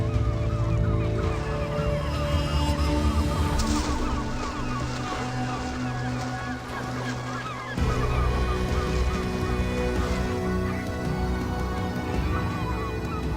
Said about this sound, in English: the herring gulls dive straight into the action to fight for every last fish left